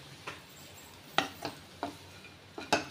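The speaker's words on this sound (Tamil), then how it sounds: "இந்த வேர்க்கடலை போட்ட உடனே 1 நிமிஷம் நம்ம வதக்கி விட்டுக்கலாம்." Bitter gourd fry with peanuts being sautéed in a pan, with several distinct scraping stirs of a spatula against the pan over a faint sizzle, close and fairly quiet, no talking.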